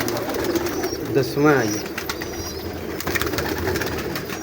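Breeder pigeons coo softly in a short rolling phrase close by, under a man's speech.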